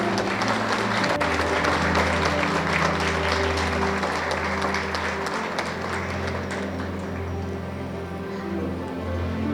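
An audience at a health-care ceremony gives steady, sustained applause to honour a doctor. Dense clapping from many hands fills the room throughout.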